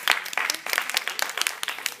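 Short burst of audience clapping after a school debate speech, close and irregular hand claps from a small group, with no talk over it.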